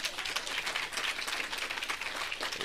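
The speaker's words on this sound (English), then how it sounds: "I think Hardabians deserve a round of applause." Audience at a regional state address giving a round of applause, a dense, fairly faint wash of clapping that holds steady throughout, with no speech over it.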